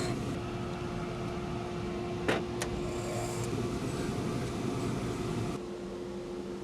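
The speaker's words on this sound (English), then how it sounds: "Bearing down as hard as I am right now with this hard wheel" A rotary tool fitted with a hard wheel grinds steadily against a cobalt ring while pressed down hard, a continuous motor whine with a brief sharper bump partway through, then the pitch drops slightly near the end.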